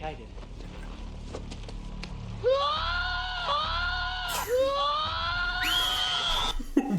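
Child screaming in a scene from the 2017 film IT, several rising and falling shrieks in close succession under background score and ambience, with a second, sharper wail near the end.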